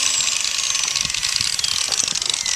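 A power grinder trims a wild mustang's hoof in a barefoot trim, giving a loud, steady high-pitched whir with a rough grinding texture and small irregular knocks close by.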